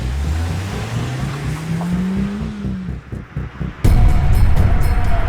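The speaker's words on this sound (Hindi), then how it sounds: "ओए, चल गाड़ी घुमा।" A car turns around, its engine droning and rising in pitch as it swings about, then a louder burst of close road and tyre noise near the end, with no speech.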